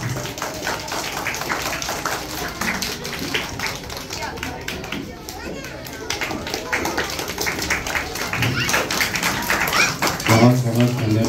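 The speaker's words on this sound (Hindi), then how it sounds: "ताली बजाएंगे।" Audience clapping at a school event forms a dense, continuous patter that swells toward the end, mixed with voices.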